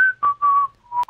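A person whistles a few short, wavering notes close up, alone with no talk, ending with a brief click.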